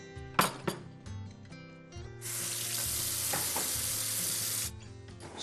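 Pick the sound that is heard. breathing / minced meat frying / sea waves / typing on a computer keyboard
minced meat frying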